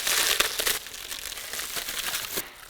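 Packaging crinkles and crunches as a van swivel seat is unboxed, close, irregular rustling and crumpling bursts without talk.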